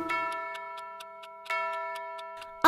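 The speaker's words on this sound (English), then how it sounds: "The clock struck two," A chiming clock strikes with several bright, ringing tones in steady succession, each note sustaining and fading, heard alone and close.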